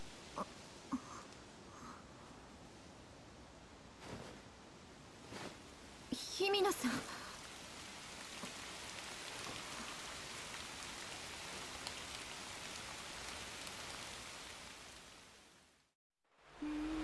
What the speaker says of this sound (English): I'm getting wet because of the rain.